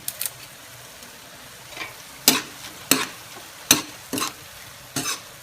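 Bopis cooks in a pan with bay leaf, stirred in spaced scraping strokes about every half second to second, each a brief rasp over a faint sizzle, close by and with no talking.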